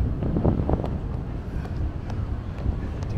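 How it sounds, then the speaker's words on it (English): Strong wind buffeting a boat at sea off Marsa Matruh, Egypt, a loud continuous roaring rush across the microphone with gusty low rumble and no clear speech. "the wind is picking up."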